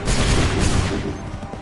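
A musket volley fires in Assassin's Creed III's battlefield setting, a loud, dense burst of many overlapping shots with a booming low rumble that trails off over about a second and a half.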